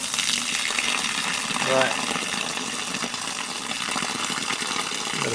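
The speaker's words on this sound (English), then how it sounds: "I guess that's all water coming out of the hot water cylinder in there" Water gushing hard out of a broken hot water cylinder fitting, a loud continuous rushing spray that holds steady throughout, with a brief spoken word near the start.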